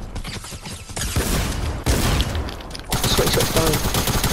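SMG gunfire in the Fortnite video game crackles in dense rapid bursts, close and loud, forming near-continuous volleys with brief breaks, while a player's voice talks over the shooting.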